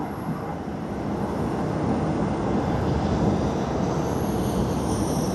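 An All Nippon Airways airliner at Tokyo Haneda Airport produces a continuous broad engine roar, steady and fairly loud at a moderate distance, with no voices.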